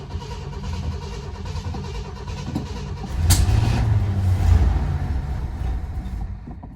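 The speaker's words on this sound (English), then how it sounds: "So it's running pretty badly still" A 1970 Ford Country Squire station wagon engine, parked for 14 years, idles roughly from inside the cab, a loud continuous rumble that swells after a few seconds as gas is given.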